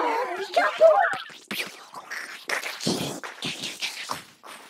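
A voice comes through a SuperCollider effect that warps it into uneven, choppy, moaning bursts with sharp tonal smears, loud and close with short gaps between phrases.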